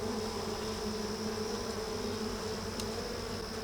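Honey bees buzz steadily and loudly around an opened hive with extra supers, a dense continuous drone close at hand with no talking.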